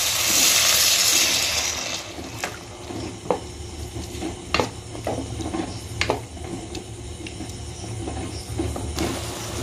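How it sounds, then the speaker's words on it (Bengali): Water is poured into a pan of cooking onions for a dhaba-style egg korma: a loud hissing sizzle in the first two seconds, then scattered spoon clinks and scraping against the pan over a low simmer. "এবার এর মধ্যে আমি অল্প জল দিয়ে দেব।"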